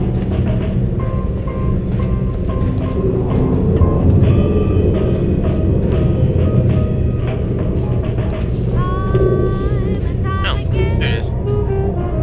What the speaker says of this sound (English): the train arrives at the station